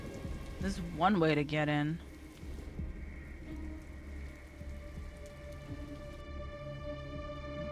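Steady rain pours over a dark scene in the video game Detroit: Become Human, with faint rumbles of a thunderstorm beneath; someone speaks briefly at the start before the rain carries on alone.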